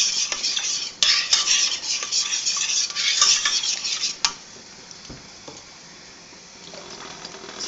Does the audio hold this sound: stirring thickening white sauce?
yes